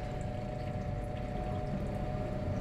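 Waste hydrochloric acid rinse solution poured into a stock pot, a steady close gurgling pour with a constant low rush of liquid and no talking.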